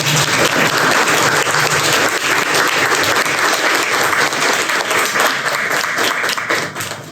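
Loud, steady applause from an audience at an art talk on collage work, dense clapping sustained throughout without a break and fading slightly at the very end.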